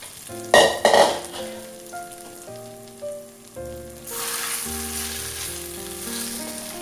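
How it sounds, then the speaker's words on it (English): Marinated bottle gourd pieces fry in hot oil in a pan, a steady sizzle with a few loud sputtering bursts early on, then a broader hiss swelling as the frying intensifies. "add the bottle gourds that is marinated and let it be fried. Now fry it well in the oil"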